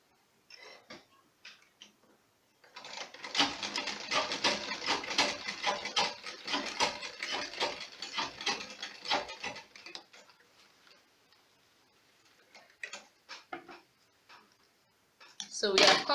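A sewing machine stitching the folded edge of a fabric face mask shut, a fast steady mechanical ticking run of about seven seconds, with short bursts of handling and a voice before and after.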